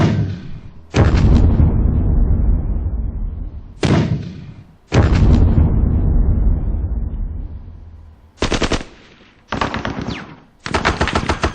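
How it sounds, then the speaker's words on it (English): Gunfire and indirect artillery bursts from a Soviet-Afghan War squad battle strategy video game come in loud, close volleys: two long rolling barrages, then several shorter sharp bursts separated by brief silences, with no talk. "Indirect fire there."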